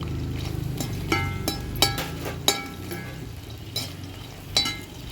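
Dried red chillies, including Kashmiri chillies, roast in hot oil in a kadai for Kerala coconut chammanthi. A steady low sizzle runs underneath, broken by occasional sharp spatula clinks and scrapes against the pan.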